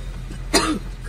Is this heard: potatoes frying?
no